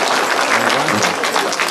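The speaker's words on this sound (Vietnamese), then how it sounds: "Mời quý vị một tràng pháo tay cho ban trống Lạc Việt và thầy Lưu Bình." Audience applause for a drum troupe at an outdoor memorial inauguration ceremony in Montréal, a continuous loud wash of clapping from many hands, steady throughout.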